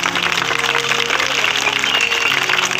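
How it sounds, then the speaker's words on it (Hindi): A crowd at a village Republic Day flag-hoisting gives applause for the village headman, a dense, steady clapping that holds evenly loud throughout. "माननीय मुखिया जी के लिए जोरदार तालियां बजाएं।"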